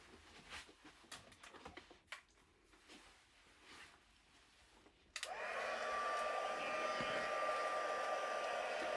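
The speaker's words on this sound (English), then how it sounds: "So let's go and get that heat set." A heat tool switches on partway through for heat-setting embossed stamping, its loud steady whir with a high whine running to the end after some quiet handling noises.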